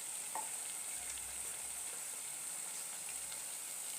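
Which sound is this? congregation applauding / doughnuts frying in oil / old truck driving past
doughnuts frying in oil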